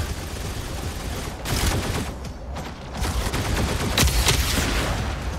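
Gunfire in the Mech Arena video game comes in dense, rapid bursts that swell and fade, loud and continuous with heavier volleys toward the end and no voices.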